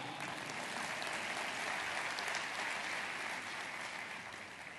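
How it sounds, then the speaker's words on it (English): An audience at a talk on digital citizenship breaks into sustained, dense applause, a steady wash of many hands clapping heard at moderate distance throughout, with no speech. "You can clap for that."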